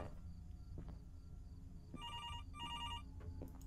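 A telephone rings in the horror video game Fears to Fathom, two electronic trilling bursts of bell-like ringing over a low background hum, fairly faint and heard alone.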